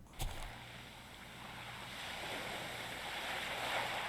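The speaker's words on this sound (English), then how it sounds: "If I hear the sound of the waves coming from behind me, all I have to do is close the distance and swing down" Waves washing and surging from behind the player in the visual novel game Aoi Shiro, a steady broad wash that swells gradually after a brief thump at the start, with no one talking.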